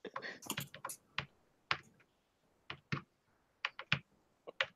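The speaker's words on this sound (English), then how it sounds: "it's me typing" Keys clatter on a computer keyboard in irregular bursts of quick clicks separated by pauses, close and fairly quiet in an otherwise still room.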